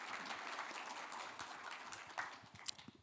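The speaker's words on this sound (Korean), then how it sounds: "여러분 큰 박수로 김재인 교수님을 맞이해 주시기 바랍니다" Audience applause at a Seoul future-technology conference hall, a steady even wash of clapping welcoming a philosophy professor to the stage, sustained throughout with a few sharper claps standing out near the end.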